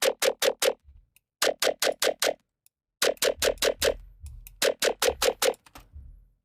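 Growling Serum wavetable synth patch with two wavetables' phase automated together, played as repeated rhythmic bursts of short stabs with brief gaps, shifting texture from note to note, loud and alone.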